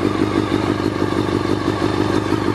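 A Honda CBR400RR sport motorcycle idling after startup, a steady close-up engine drone with rapid mechanical clatter and fine ticking, continuous and fairly loud with no voices.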